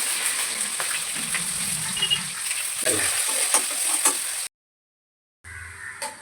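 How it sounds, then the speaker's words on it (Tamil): Onion, garlic and curry leaves fry in oil in a pan during a fish kuzhambu with sardines, giving a steady close sizzle with some stirring clatter, then a second of silence before the frying resumes. "பூண்டு வெங்காயம் எல்லாம் நல்லா எண்ணெயில் நல்லா வதக்கி வரணும்"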